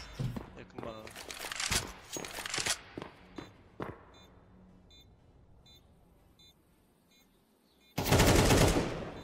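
Several sharp bursts of gunfire in Counter-Strike 2, clustered in the first few seconds and then giving way to quiet game ambience, with a loud noisy burst near the end.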